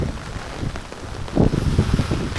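Heavy monsoon rain pours down during a thunderstorm in Maharashtra, a dense, steady hiss mixed with gusty wind buffeting the microphone, growing louder midway.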